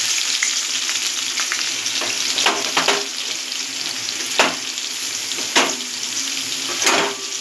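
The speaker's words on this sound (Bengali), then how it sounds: "কড়াইতে তেল গরম হয়ে গেছে, দিয়ে দেবো রসুন, কালো জিরে, শুকনো লঙ্কা ফোড়ন" Crushed garlic, black cumin and dry red chilli sizzle in hot oil in a kadai, a steady close frying hiss broken by a few sharp crackles and spatters as the spices hit the oil.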